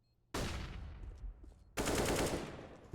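Two loud, close bursts of rapid gunfire, each with a sharp onset and fading tail, in a Counter-Strike: Global Offensive match. Nobody talks.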